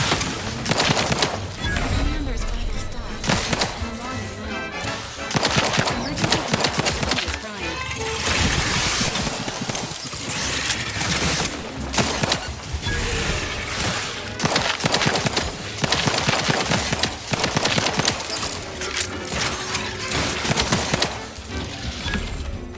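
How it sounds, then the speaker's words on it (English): Rapid gunfire in the video game The Outer Worlds 2 crackles loudly and almost continuously in dense bursts, layered with other game effects and clutter. "I may need to turn down the sound effects for gunshots."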